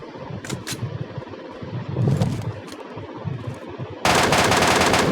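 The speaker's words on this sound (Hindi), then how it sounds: "और मैं अभी तक रैंडम फायर कर रहा था।" Rapid automatic gunfire from the battle royale video game PUBG, bursts of shots over a busy, noisy game soundscape, ending in a sustained loud burst at the close.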